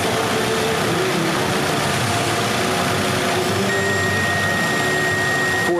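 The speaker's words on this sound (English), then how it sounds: "And we have our compressor commanded on." A 2009 Nissan Rogue or Altima engine runs steadily with its air conditioning compressor commanded on, giving a loud, continuous mechanical drone with no talk over it.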